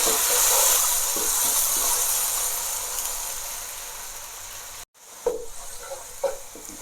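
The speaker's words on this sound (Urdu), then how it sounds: "اس کے ساتھ ہی میں ادرک لہسن کا پیسٹ ایڈ کر دوں گی۔ اس کو بھی ہم 1 منٹ کے لیے فرائی کر لیں گے" Ginger garlic paste sizzles and fries loudly in a hot pan, a steady dense hiss that softens slightly, then breaks briefly before sputtering again with a few sharper crackles and stirring sounds.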